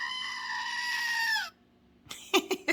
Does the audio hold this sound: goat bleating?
yes